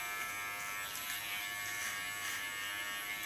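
An electric hair clipper trims along a man's beard, giving a steady, close buzzing hum that holds evenly for the whole stretch with no talking.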